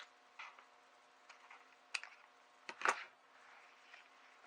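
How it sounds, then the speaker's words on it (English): Scissors cutting paper for a Valentine junk journal make a few quiet, separate snips and clicks close by, with one sharper cut near the end. "Okay, let's give this a snip."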